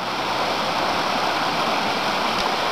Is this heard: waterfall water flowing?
yes